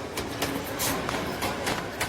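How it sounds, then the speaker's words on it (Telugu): A train pulls in during a Telugu film scene, a steady broadband rumble broken by repeated clattering bursts, moderately loud, with no voices. "నాన్న ట్రైన్ వచ్చినట్టుంది."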